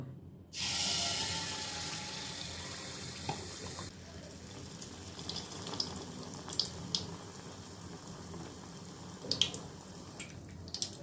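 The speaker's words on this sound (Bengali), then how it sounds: "এবার চামুচের সাহায্যে একটা একটা করে পিঠা তেলে দিয়ে দেব" Pakan pitha batter dropped spoon by spoon into hot oil in a wok, giving a steady broadband sizzle with occasional sharper pops and crackles over a low background rumble.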